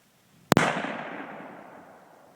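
A single sharp 22-250 rifle shot fired while sighting in at about 45 yards, a loud close crack followed by a fading outdoor echo tail.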